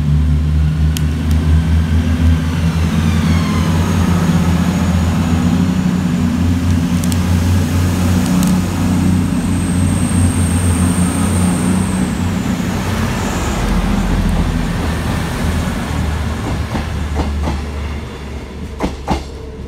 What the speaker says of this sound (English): Next to depart from the station is 221-133, working the 12:50 cross-country service from Reading through to York.